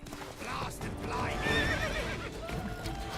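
A horse in the video game The Witcher 3 gives a loud whinny over clip-clopping hooves, with someone talking over the game sounds.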